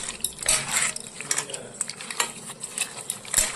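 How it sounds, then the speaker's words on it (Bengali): Pabda fish is rubbed in a bowl with Kashmiri chilli powder and mustard oil, giving close, steady wet squelches and scattered clicks against the bowl in an uneven rhythm. "এবার মাছটাকে আমি ভালো করে মেখে নিচ্ছি।"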